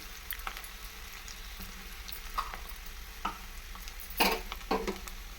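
Curry leaves and turmeric hit hot tempering oil for a drumstick-leaf dal, a faint steady sizzle with a few sharper crackles and spoon clinks near the end.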